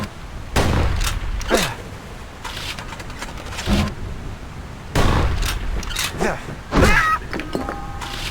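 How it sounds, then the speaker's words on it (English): Gunfire from a gun in the video game Bastion, several sharp, loud single shots spaced a second or two apart, some with ringing metallic tails, amid game effects and a narrator's voice. "Gun like that can even put the wilds in check."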